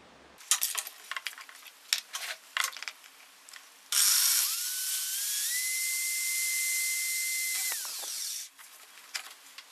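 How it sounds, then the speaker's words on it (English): A power drill bores holes for two sockets in a DIY guitar kill switch pedal enclosure, a few short bursts followed by a sustained close whine that slowly rises in pitch for several seconds and then stops, with more brief handling sounds after. "So now we need to drill the two holes for the two sockets."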